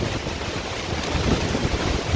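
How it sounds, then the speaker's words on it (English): Strong wind buffets a microphone outdoors during a hiking gear rundown, a steady broadband roar with gusty low rumbling throughout and no speech. "I hope y'all can hear me because it's really windy"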